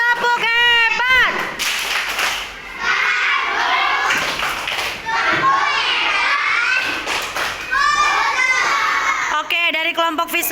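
A second-grade class of children doing a rhythmic group clap, sharp patterned claps mixed with children's voices chanting and shouting along, loud and close in a classroom.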